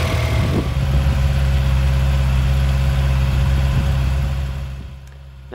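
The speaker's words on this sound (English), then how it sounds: "The motor is lovely and smooth." A Honda CB650R motorcycle engine runs smoothly and steadily at a loud, close idle, a constant low hum that fades slightly at the end.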